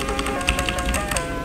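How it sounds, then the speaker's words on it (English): A phonk-style cowbell sample, crushed with heavy distortion, high end rolled off and a wobbling vintage lo-fi effect, ticks in a quick repeating metallic pattern over a dense, droning hum. "I distorted it using Camel Crusher."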